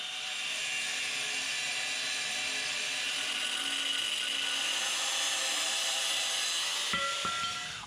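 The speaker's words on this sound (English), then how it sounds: "So I am cutting the ends of the bumper tube by hand after all." An angle grinder cutting the ends of a steel bumper tube by hand, a continuous high whining hiss of abrasive on metal held steady for several seconds before the tool winds down near the end.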